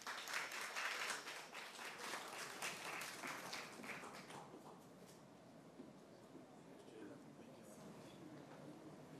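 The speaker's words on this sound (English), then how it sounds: "Let's give him a big warm round of applause" A museum-launch audience gives warm applause for a keynote speaker, loud dense clapping at first that thins and fades after a few seconds into quieter room noise with faint murmuring.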